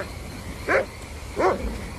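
At night outdoors a dog lets out two sharp, separate barks about a second apart, moderately distant, over a quiet background hiss.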